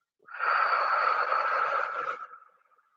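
A single long breath, in and out, is taken close to the microphone in quiet surroundings. The airy rush lasts about two seconds and then fades out softly.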